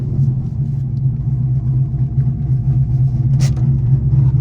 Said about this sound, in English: This is the GTI running